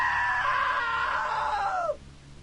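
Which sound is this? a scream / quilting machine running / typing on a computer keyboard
a scream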